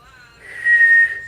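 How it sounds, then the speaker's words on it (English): A person whistles a steady sustained note that swells louder midway, sounding slightly off-key, close and alone without talk. "dogs are not a big fan of whistles, especially when you're off-key like that."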